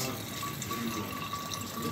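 A liquid solution is poured into a glass beaker, a steady close trickle and splash that runs the whole short moment with no voices.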